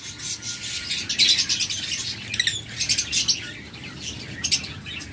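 Several lovebirds chirp and tweet nearby in bursts of sharp, high calls, with a low room murmur underneath.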